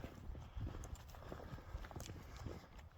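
Cows walk along a trail with soft, irregular hoof clops on the ground, faint and close, under light outdoor background noise.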